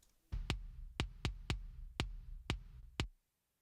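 A kick drum track parallel-compressed through a DBX 160 compressor hits seven times in a steady rhythm. Each beat is a firm, sustained thud with a fuller tail, heard alone.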